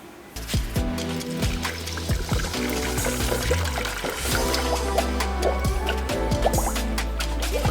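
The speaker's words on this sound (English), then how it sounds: "Trying to fill this up with some demineralized water." Demineralized water pours into the radiator of a Proton Jumbuck pickup during a coolant swap, a steady close gurgling trickle with dripping and splashing that runs on without a break.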